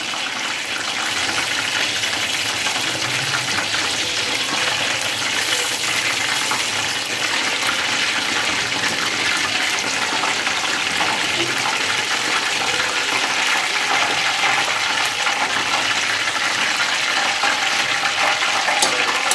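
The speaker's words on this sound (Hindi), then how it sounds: "ड्रम स्टिक हमारी फ्राई हो गई हैं।" Chicken drumsticks frying in hot oil, a loud, dense, continuous sizzle and bubbling roar that holds steady for the whole stretch, close up with no voices over it.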